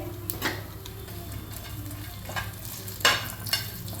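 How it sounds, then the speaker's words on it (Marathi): Whole garam masala spices (bay leaf, cinnamon, cloves, cumin) roast in a spoonful of oil with a low, steady sizzle and a few sharp spoon scrapes and pops; no voices. "गरम मसाला असा भाजून घ्यायचा आहे थोड्या 1 चम्मच तेलावरती।"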